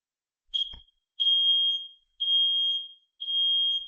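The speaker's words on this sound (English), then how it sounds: "up first we're going to test this smoke and CO detector" A combined smoke and carbon monoxide detector sounding during a test: one short chirp, then three long, loud, piercing electronic tones evenly spaced with brief gaps, close and alone.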